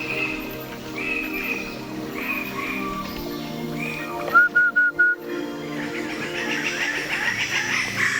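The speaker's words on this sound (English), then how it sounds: "you can hear the birds so clearly" Birds call in a mangrove forest, a series of clear whistled notes repeating at intervals, then a quick run of four sharp chirps, with more overlapping calls afterwards against soft ambient noise.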